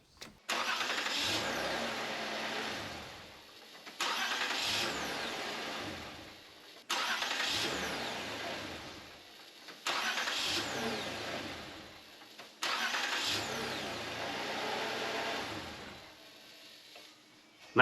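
A Toyota Avalon engine cranks and fires up five times in a row after a starter motor replacement, each start roaring briefly before settling and cutting off, with short pauses between.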